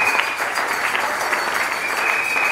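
A church congregation at a Sunday worship service claps steadily together, a continuous dense patter of hands lasting the whole moment, moderately loud, with a faint sustained tone running beneath.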